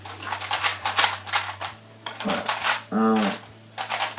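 Rapid plastic clicking and clacking of a Moyu speed cube being twisted during a quick solve, dense bursts of turns close by, with someone speaking briefly between them.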